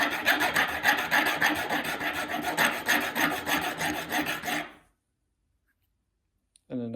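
A file rasping back and forth over a pen insert lip held on a flat surface, in rapid, even strokes that stop abruptly, followed by silence and a brief sound at the end.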